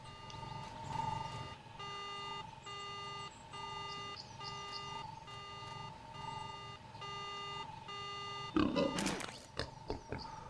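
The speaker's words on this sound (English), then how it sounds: "The speeder's alarm begins to ring out." A speeder's alarm rings out in Star Wars: Knights of the Old Republic, a repeating electronic beeping pattern in steady pulses, followed near the end by a louder burst of game sound and scattered effects.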